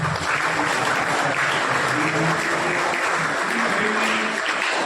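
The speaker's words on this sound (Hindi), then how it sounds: "जोरदार तालियां बजाकर" Loud, steady applause from an audience at a school sweater-distribution event held by a youth club, a dense wash of clapping sustained throughout with faint voices underneath.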